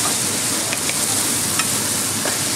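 Sauce goes into a pan where onion and garlic are already frying, and a dense, continuous sizzle hisses up close with a few faint clinks of stirring.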